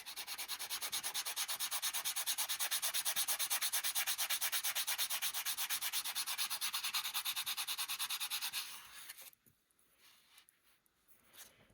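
Rapid rhythmic back-and-forth sanding of a wire eighth note connector, close and steady for about nine seconds, then stopping into a few faint scrapes and handling sounds.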